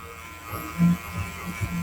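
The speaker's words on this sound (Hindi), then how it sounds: "उल्टे हाथ से ये ट्रिमर चला रहे हैं" An electric hair trimmer runs during a haircut, a close, low buzzing that rises and dips in short bursts as it moves through the hair, with no talk.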